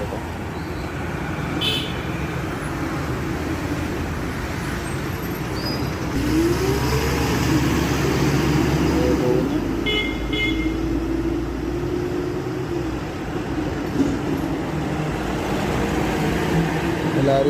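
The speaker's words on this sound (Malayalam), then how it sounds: "ബസ്സുകളാണ് ഈ വരുന്നത് കേട്ടോ." Buses, including school and private buses, and other traffic pass along a road in Tamil Nadu during a national strike day, a steady close rumble of engines with a few brief horn-like tones rising over it.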